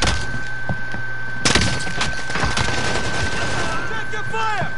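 Gunfire in Call of Duty Warzone (Modern Warfare), loud bursts of rapid shots with sharp impacts and thuds, blending into continuous game noise and a steady electronic tone.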